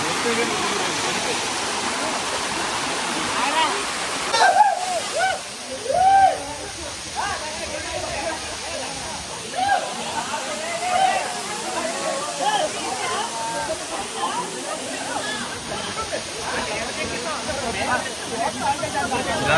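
A steady rushing roar of falling water at Katika Waterfalls in Araku, Andhra Pradesh, fills the scene without pause, with voices talking over it.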